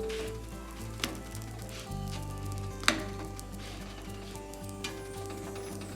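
Rice pathiri, soft rice-flour roti, cooking four at a time on a hot pan, giving a steady low sizzle with a few light clicks of turning.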